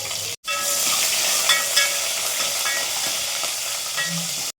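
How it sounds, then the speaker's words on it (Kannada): Onions, curry leaves and mustard seeds fry in hot oil for a fish curry, a loud steady sizzle and hiss close by, with occasional pops and faint stirring. "ಸ್ವಲ್ಪ ಕರಿಬೇವು ಸಾಸಿವೆ ಹಾಕ್ಕೋತಾ ಇದ್ದೀನಿ ಸ್ವಲ್ಪ ಈರುಳ್ಳಿ ಇದೆಲ್ಲ ಚೆನ್ನಾಗಿ ಫ್ರೈ ಆಗಬೇಕು"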